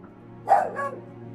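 A dog barks twice in quick succession indoors, fairly close and loud, over a steady low electrical hum, with no talk.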